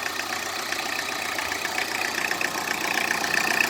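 A 2011 Tata Indica diesel car engine idles steadily and evenly, with a close, constant mechanical hum and clatter throughout and no voices.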